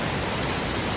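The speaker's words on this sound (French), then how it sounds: "Petite cascade." A small mountain waterfall pours in a steady, dense rush of splashing water, loud and close, with no other sounds over it.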